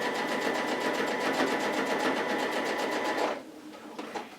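An industrial sewing machine stitches a garment sleeve in a fast, steady mechanical run for about three seconds, then stops abruptly, leaving quiet room tone.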